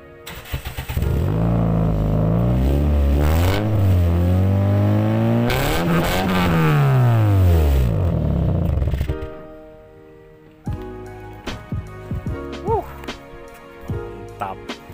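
Toyota Vios third-generation sedan with an Arturo aftermarket exhaust cranks and starts, its engine roaring loud and close with rising and falling revs for about nine seconds before dropping to a lumpy idle.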